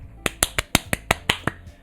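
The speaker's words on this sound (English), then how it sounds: "The four of us applaud." Applause sound effect from the visual novel game Doki Doki Literature Club Plus: about eight crisp, sharp claps in a quick, fairly even rhythm, close and clear with nothing else around them.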